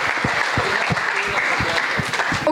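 A crowd at a learning celebration event in Bangalore applauds young authors, loud dense clapping with sharp individual claps standing out throughout.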